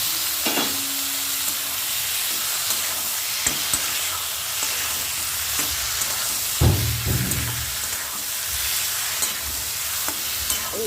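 Fried brinjal tipped into a pan of tomato, onion and chilli, giving a close, steady sizzle with repeated scraping stirs and a few heavier knocks of the utensil against the pan.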